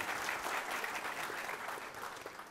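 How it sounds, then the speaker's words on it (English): Audience applause at a panel discussion on enterprise data centers: a steady, dense clapping from a seated crowd, moderately loud and continuous with no talk over it. "Give them an applause."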